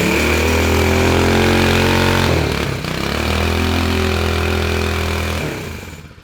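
A 1970 Fox Condor mini bike's small engine revs hard and loud up close in a sustained buzzing drone, dips briefly, surges again during an attempted burnout, then fades as the throttle closes.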